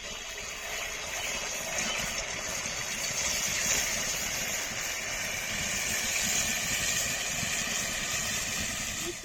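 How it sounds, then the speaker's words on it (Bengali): Langcha sweets made with Gobindobhog rice fry in hot oil, a steady low hiss and bubbling sizzle that holds evenly throughout, close and quiet, with no talking. "মিষ্টিগুলো ভেজে নেব।"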